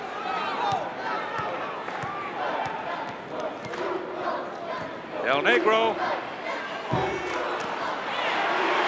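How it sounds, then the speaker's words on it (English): A 1987 college basketball arena crowd at NC State roars in protest, wanting a call, a dense sustained din with whistles and a sharp thud partway through, while a commentator speaks over it. "Crowd wanting a call."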